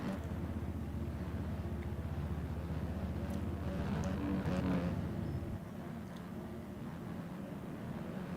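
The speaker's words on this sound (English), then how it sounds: "Sounds like somebody is idling off the side of the track." A race car engine idles off the side of the track in a CCRL Mini O's amateur championship racing video game, a continuous low, droning hum that swells slightly midway, then drops a little softer.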